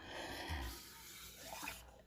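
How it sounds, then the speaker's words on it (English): Cold water from a bathroom sink pours into a sublimation tumbler as it is turned, giving a soft, steady gurgling and trickling that stays faint and close throughout. "And I just turn it, let it fill up with the water."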